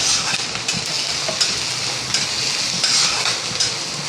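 Green chili paste with plenty of garlic sautés in a pan on lowered gas, a steady close sizzle and hiss with occasional stirring scrapes, no voices.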